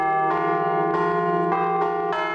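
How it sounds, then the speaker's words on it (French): Carillon bells ring in quick succession, three bells played at once, overlapping metallic strikes forming a sustained, resonant chime with rich lingering overtones. "surtout lorsqu'on joue sur trois cloches à la fois"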